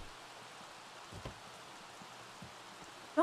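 Rain in The Sims video game, a soft, steady patter of drops across the whole stretch with a few faint thuds and no voices.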